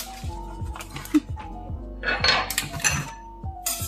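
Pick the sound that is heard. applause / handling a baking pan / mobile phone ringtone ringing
handling a baking pan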